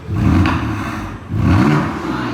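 BMW F82 M4 with an aftermarket exhaust, valves closed, revving twice: two deep, loud rising blips with a brief dip between, close and alone.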